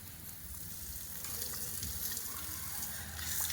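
Water spraying steadily from a hose to bathe pigs on a farm in hot afternoon weather, a continuous close hiss and splash with no talking.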